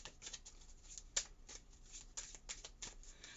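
A deck of tarot reading cards is shuffled by hand in a quiet room, with soft, rapid riffling and flicking repeating in irregular bursts.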